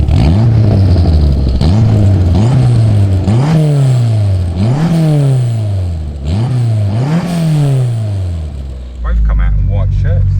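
A Ford Escort Series 1 with a 2.0 turbo engine burbles and revs through repeated rising gear pulls while driving, loud and close throughout, ending in a steadier idle-like drone.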